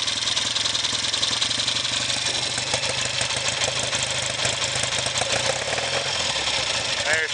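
A 1969 Triumph Daytona 500 motorcycle engine idles while still cold, a continuous near, loud, slightly uneven rumble throughout.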